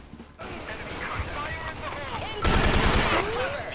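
Rapid bursts of K2 assault rifle fire in the online shooter Special Force 2, loud and dense automatic shots running through most of the stretch and intensifying near the end, with faint speech underneath.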